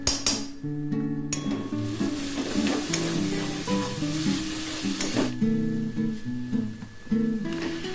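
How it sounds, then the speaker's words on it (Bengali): Onions and garam masala fry in a pan with a dense close sizzle, broken by repeated clinks and scrapes of a spoon against the metal as the mixture is stirred. "পেঁয়াজের কাঁচা গন্ধটা যাতে না বেরোয় সেজন্য খুব ভালোভাবে কষিয়ে নিতে হবে।"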